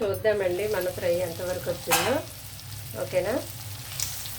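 Prawns fry in hot oil for a chilli prawn fry, a steady soft sizzle running underneath while someone speaks over it almost throughout.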